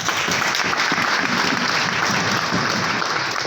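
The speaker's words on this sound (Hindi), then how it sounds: "इन चारों व्यक्तियों की जोरदार तालियां बजाइए साथ" Loud, steady applause fills a hall at a network-marketing seminar as the audience claps for four people who have just been seated, a continuous dense clatter of many hands.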